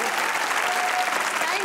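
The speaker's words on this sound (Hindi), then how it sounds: "अपने तालियां हो जाइए" Studio audience applauding steadily throughout on a Pakistani comedy talk show, dense even clapping with a brief faint voice passing over it.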